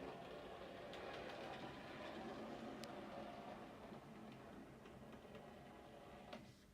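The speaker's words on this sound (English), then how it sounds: "So there's the loco on the move." A model train locomotive runs along layout track toward the back of the shed, giving a faint, steady mechanical hum with occasional light ticks and clicks. The sound is quiet and even, with no talking.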